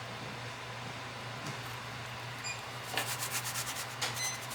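Paper glued onto a board being rubbed down by hand: soft, steady scuffing strokes close by over a constant low hum, turning into a run of brisker rubbing passes near the end.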